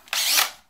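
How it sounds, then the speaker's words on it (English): Power drill driving in a mount for indoor adjustable hammock hanging hardware on a wall stud, one short loud whirring burst under a second that rises quickly and then winds down. "with the power tools, I'm going to install the mount."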